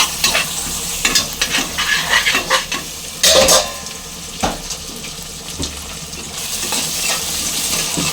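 Onions and broad beans are stirred in a frying pan for a chikkudu kaya curry, with a steady sizzle broken by repeated scraping strokes of the spoon and a brief splash of water, close and loud with no talk.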